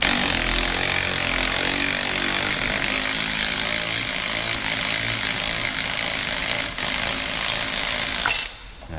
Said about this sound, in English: Let's see if the ratchet has enough torque to get it done.